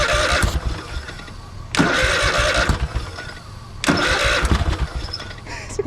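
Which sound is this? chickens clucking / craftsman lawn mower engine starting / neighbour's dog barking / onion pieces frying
craftsman lawn mower engine starting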